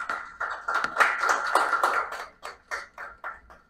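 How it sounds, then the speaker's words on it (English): Applause for panelists at a corporate panel discussion with a Deloitte India director and an IndusInd Bank country head, heard as scattered, separate hand claps with a few distinct taps toward the end rather than a dense ovation. "A big round of applause."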